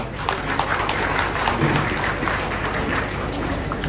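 An audience applauding at a women's cultural fugdi dance competition, a dense, sustained burst of clapping from a large crowd that continues evenly throughout.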